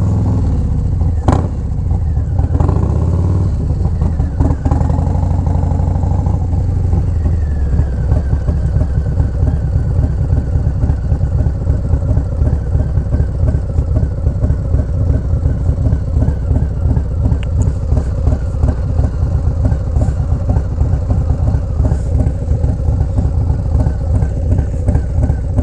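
A Harley-Davidson Low Rider S motorcycle fitted with a 122 Screaming Eagle Stage 3 engine idles loud and close, with a steady lumpy rumble and a brief blip of revs near the start, no talking over it.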